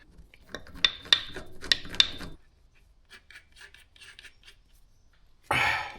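A new hydraulic top link pipe fitting is tightened with a wrench, giving a series of sharp metallic ratcheting scrapes and clicks up close, then quieter fiddling and a brief louder rustle at the end.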